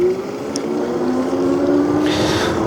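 An Invanti Tornado electric cargo bike motor at full throttle while pedaling uphill at about 19 mph, a steady close electric whine that slowly rises in pitch over wind rush.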